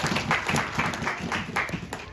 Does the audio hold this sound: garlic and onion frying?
no